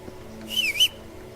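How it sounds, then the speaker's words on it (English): A short two-note whistle calling a horse in Kingdom Come: Deliverance, rising then falling clearly over quiet background hum, lasting about half a second. "I totally whistled for you on purpose, and it wasn't a complete accident."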